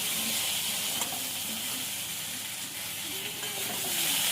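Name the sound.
frying vegetable stalks in pan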